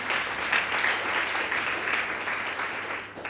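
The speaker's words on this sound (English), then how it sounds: "Can I get another round of applause for that?" A live audience at a global health workforce roundtable gives a sustained round of applause, dense steady clapping holding evenly for the whole stretch with no break.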